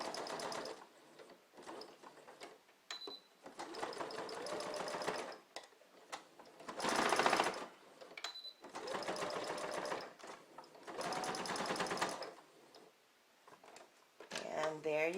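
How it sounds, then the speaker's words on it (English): A sewing machine stitches back and forth to secure elastic in a workout headband, running in several bursts of rapid mechanical whirring separated by short pauses. Talk can be heard between the bursts. "you're just going to sew back and forth to secure the elastic"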